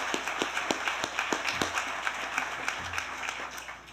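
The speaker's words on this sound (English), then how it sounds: "Please join me one more time in applauding the Webco leadership." A gathering at a leadership campus grand opening applauds the Webco leadership with scattered, fairly distinct claps that thin out toward the end.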